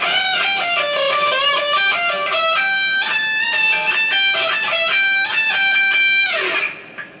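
An electric guitar plays section 2 of a solo, a fast run of bright, sustained lead notes with bends that rings out alone and is cut off sharply near the end.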